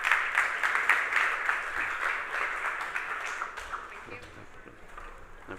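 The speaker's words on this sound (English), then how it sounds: "Give them a warm round of applause, please." Conference audience applauding presenters at an esports talk, a steady patter of many hands that gradually fades, with voices starting to come through near the end.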